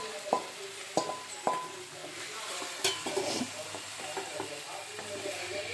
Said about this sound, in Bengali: একদম জোর আঁচে করে টস করতে হবে চিকেনটাকে।